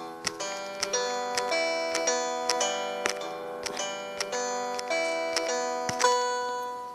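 Notes of a melody tapped out on an Android music app, a bright plucked, bell-like tone sounding in a steady run of about a dozen evenly spaced notes with sustained ringing overlap, close and clear with no talking.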